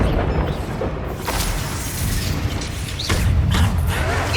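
A spell explosion from Hogwarts Legacy roars as a dense, sustained booming rumble that swells again near the end, loud and continuous with no voices over it.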